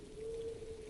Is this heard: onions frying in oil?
no